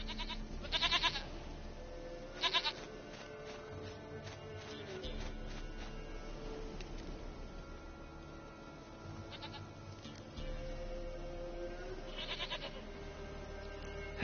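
A goat in the video game Witcher 3 bleats repeatedly, with several short, nasal cries spread out over soft background ambience and a low hum.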